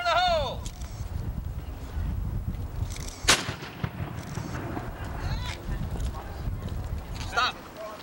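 A cannon fires once in a sharp, loud blast near the middle, echoing briefly, with people talking before and after, in a 1992 cannon safety demonstration outdoors.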